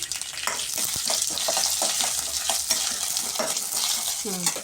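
Cumin seeds and a single dried red chilli crackle and sizzle in hot oil for potato masala, with a dense, bright spitting hiss and close stirring scrapes throughout. No one speaks.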